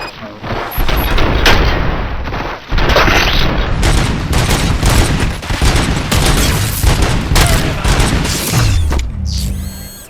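Dense, loud gunfire fills a RoboCop Rogue City firefight, with rapid bursts and booming shots rolling almost continuously, one brief pause early, then tapering into mechanical whirring at the end.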